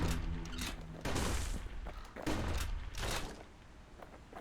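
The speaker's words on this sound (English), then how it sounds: "Dueling pistols." Dueling pistols fire in the game Bastion, a few loud, sharp bursts of rapid shots spaced across the moment over a dense, noisy game background.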